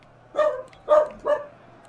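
A pet puppy barks three times in quick succession, short sharp yaps close by, separated by brief pauses, over a faint low background hum.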